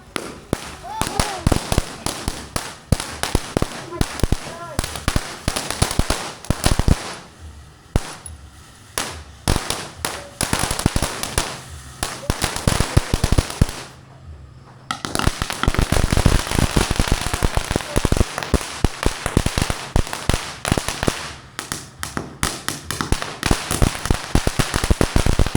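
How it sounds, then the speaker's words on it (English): Gender reveal fireworks and firecrackers go off during New Year celebrations in the Philippines, with dense, rapid crackling bursts and loud pops rattling on almost continuously, pausing briefly before resuming, while people talk nearby. "It's meant to be gender reveal fireworks."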